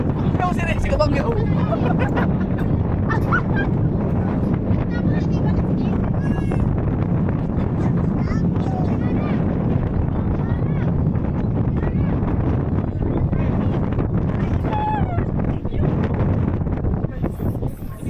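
Steady, heavy wind roars and buffets outdoors on a glass walkway at Monte Maria throughout, a broad low rumble with occasional faint voices and scattered higher sounds in the background.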